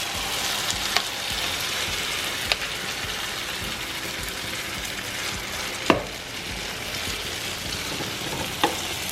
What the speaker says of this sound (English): Now I'm gonna fry it.